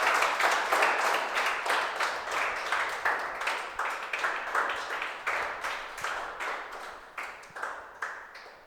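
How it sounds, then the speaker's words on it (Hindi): A crowd claps warmly to welcome airman Aman Vaishnav, a dense burst of many hands that swells at first and then gradually thins and fades out across several seconds. "जोरदार ताली के साथ स्वागत बेटा"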